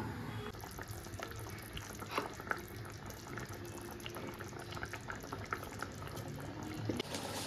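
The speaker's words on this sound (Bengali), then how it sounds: "জলটা ঢেকে রেখে এবারে ওটা ফুটবে" Water for a lau dhoka curry boiling in a covered pot with three green chilies, a soft, steady bubbling with faint irregular pops and ticks, heard close and without voices.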